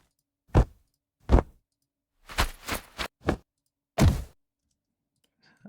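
Foley footsteps for a League of Legends character come as a handful of separate soft thuds and clicks, spaced irregularly with a quick cluster in the middle, close and dry with no talking.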